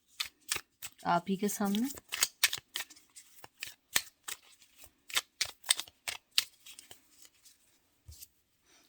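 Tarot cards are shuffled and drawn in a run of sharp, close flicks and snaps, with a short phrase of speech early on.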